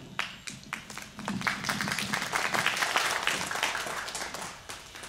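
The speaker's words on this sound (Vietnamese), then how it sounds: "Xin quý vị một tràng pháo tay dành cho các nhạc sĩ Việt Nam." Applause from an audience at a Texas memorial event for Vietnamese songwriter Việt Dzũng, fairly quiet and somewhat distant, a busy patter of many hands that swells in the middle and thins out toward the end.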